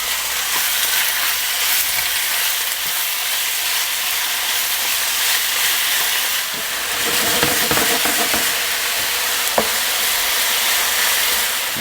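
Chicken and eggplant stir fry in hot avocado oil, a loud, continuous broadband sizzle with occasional scraping stirs and clacks of a utensil in the pan, steady throughout.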